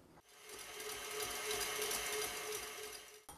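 Electric mixer whipping egg whites on medium speed for a fruit souffle, a steady high whirring motor hum that holds for a few seconds and then stops abruptly.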